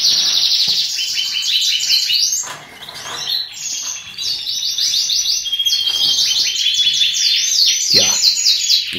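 Canaries chirp and sing continuously, with dense, bright, rapid trills and tweets overlapping from several birds close by, pausing briefly once before resuming.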